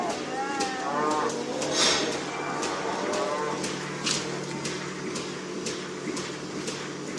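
Cows mooing repeatedly in a dairy barn at milking time, several overlapping lowing calls near and far over a steady hum of farm machinery, with faint clicks throughout.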